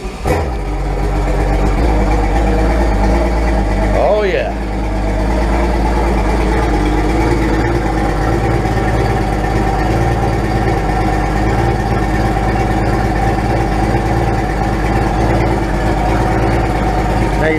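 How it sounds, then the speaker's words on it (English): An outboard motor runs on flush muffs with water hooked up, a steady close idle with a humming low drone and engine harmonics holding for the full length; someone briefly speaks near the start. "Time to turn the engine on guys. Let's check it out. Let's flush that baby."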